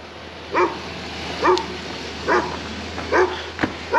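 A dog barks five times at an even, unhurried pace, each bark short and moderately distant outdoors at a residential property, with no one talking.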